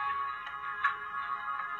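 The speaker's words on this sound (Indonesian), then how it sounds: "Kita cek buat nada dring panggilan masuk." Built-in incoming call ringtone of a Brandcode Cytrus flip phone, a bright electronic melody with repeating short notes, played steadily and fairly loud from the small speaker without any talk.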